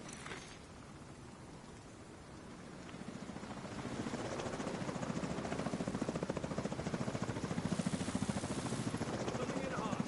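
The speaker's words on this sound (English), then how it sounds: "Enemy helicopter approaching." A helicopter in The Division 2 closes in, its rotor chop building from a low rumble into a loud, steady pulsing wash that swells over several seconds amid dense game ambience.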